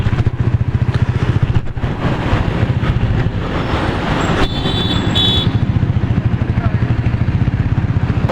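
Royal Enfield Classic 350 motorcycle riding on Delhi's Outer Ring Road, its single-cylinder engine thumping in a steady, rapid rhythm close up, loud, with road and traffic noise around it and a brief high whine midway.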